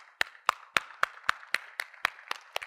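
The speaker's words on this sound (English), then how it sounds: "Please give yourself a round of applause" A small audience at a speech event claps about ten times in a slow, steady rhythm. The claps are sharp and evenly spaced, with a few hands joining in.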